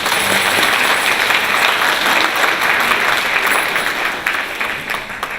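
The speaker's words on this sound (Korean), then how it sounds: "박수 한번 보내주세요." Dense, steady applause from a church congregation at a festival service in Yangju, loud and sustained, then thinning slightly toward the end, with no voices over it.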